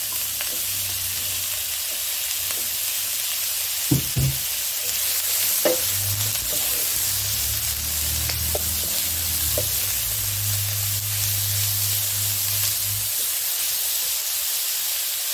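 Ground beef frying and being broken apart in a pan for a Thai basil beef stir-fry, with steady close sizzling and scraping stir strokes, a few sharper knocks around the middle, and no voices.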